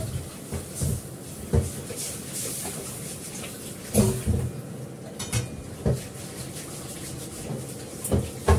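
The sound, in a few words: washing a kadai (wok) clean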